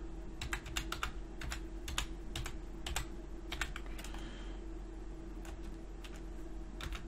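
Keys clatter on a computer keyboard in short, irregular bursts, close and fairly soft over a steady low hum of room or machine noise.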